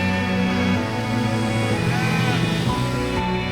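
Sheep bleat loudly and continuously, several overlapping wavering calls from a close flock at Hamad International Airport.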